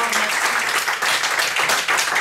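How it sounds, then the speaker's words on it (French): Audience applause at a talk held in support of the Chilean cause, a steady crowd of hands clapping at full strength with faint voices mixed in. "applaudissements pour votre camarade"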